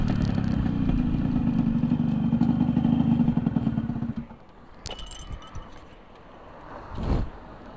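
A Yamaha RX King motorcycle with its exhaust filter missing runs loud and raspy at close range for about four seconds, then drops away to quieter rattling and a few brief clatters.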